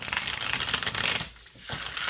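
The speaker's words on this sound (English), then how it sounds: "These have already been pre-shuffled, but I think I'll do it one more time because it just feels good to do it." A deck of tarot cards is shuffled by hand in a quiet room, giving steady papery riffling and rustling with a brief pause near the middle before the shuffling resumes.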